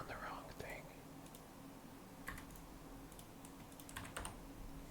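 Computer mouse clicking during a game session: a few faint, sharp clicks spaced irregularly over a low steady background hum, quiet and close.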